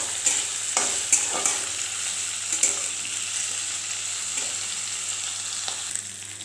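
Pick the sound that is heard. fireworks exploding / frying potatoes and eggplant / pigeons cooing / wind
frying potatoes and eggplant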